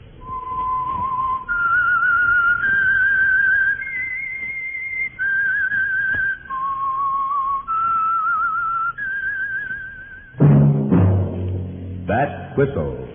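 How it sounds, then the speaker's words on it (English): Whistled theme signal for the radio program The Whistler, a single human whistler carrying a slow, wavering melody of sustained notes, clear and close, followed by a short burst of orchestral music. "That whistle is your signal for the Signal Oil Program, The Whistler."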